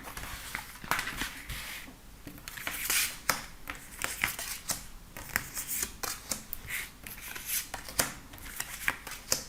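Tarot cards being shuffled for a reading, a steady run of riffling, flicking and snapping card sounds, close and fairly quiet, continuing throughout with irregular sharp taps.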